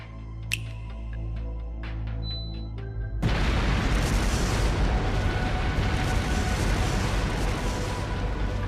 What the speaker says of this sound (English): Explosive artifacts!